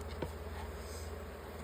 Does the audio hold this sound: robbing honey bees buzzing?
yes